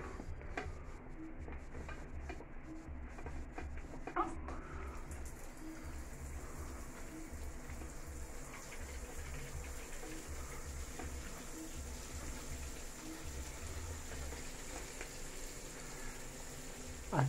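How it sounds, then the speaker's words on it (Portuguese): Water from an electric shower runs in a steady, even hiss for the whole stretch, with faint ticks and no talking. "Vamos abrir a água."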